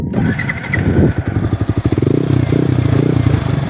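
Motorcycle engine, likely with an open pipe, sputtering and clattering at first, then firing into rapid rhythmic pulses and revving loud and close, settling into a rough, throbbing run.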